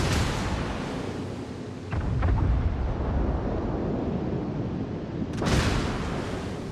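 Heavy battleship shells from a Yamato slam into an enemy cruiser in naval combat in World of Warships: Legends, a deep booming impact around two seconds in and another blast near the end over a steady rumbling battle bed.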